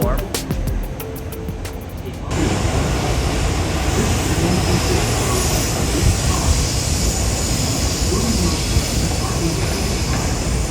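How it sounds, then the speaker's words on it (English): A freight train rolls past a station platform in Kyoto, a loud, steady rumble of wagons filling the clip after a brief ticking start. "Well, there's one freight train on the other platform."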